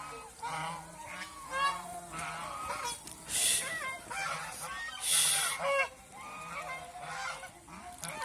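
A flock of geese honks continuously, with many overlapping nasal calls rising and falling in quick, nearby bursts.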